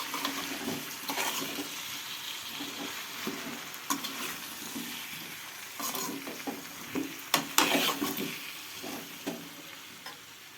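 Salt, chilli powder and turmeric are stirred through vegetables in a pan, with soft sizzling and repeated scraping strokes of a spoon rising and falling at close range, no voices.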